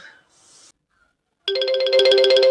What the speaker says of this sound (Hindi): फिर से फोन आया,